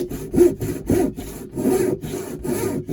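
Hand saw cutting notches for a joint in a wooden bluegill wakebait lure, a series of close, loud rasping strokes in steady rhythm with brief pauses between them.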